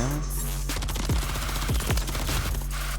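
Rapid bursts of automatic gunfire from a fast-firing Rival-9 in Call of Duty: Modern Warfare 3, dense crackling shots over a steady game soundtrack hum, a few sharp louder reports standing out.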